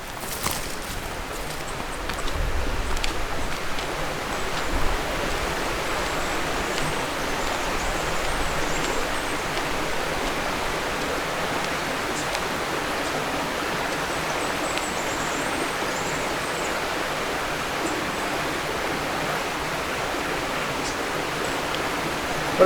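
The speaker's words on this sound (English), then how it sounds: "What a magic little section of creek." Flowing creek rapids at a remote winter camping spot, a steady broadband rush of water that stays constant and fairly close throughout, with a few faint knocks early on and no talk.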